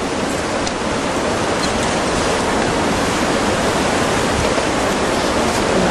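Tsunami waters surge through Minamisanriku, Japan, as a steady, loud, broadband roar of rushing water that holds without a break throughout, with no voices.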